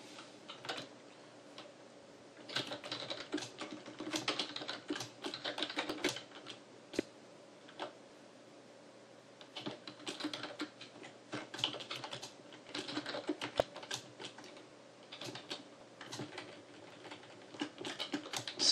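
Quick, irregular clicks of typing on a computer keyboard during a LinqPad programming session, close and fairly quiet, coming in bursts with short pauses.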